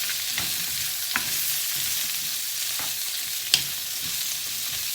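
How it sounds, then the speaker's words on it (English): Onion sizzles steadily as it is stir-fried in a pan for vegetarian chicken with cashew nuts, a continuous bright hiss broken by a few light scrapes and clicks of stirring, with no talking. "Keep stir frying."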